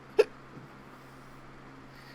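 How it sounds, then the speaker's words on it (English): A single sharp hiccup from a man, close and sudden, followed by a faint second catch and then near silence. "excuse me, hiccups."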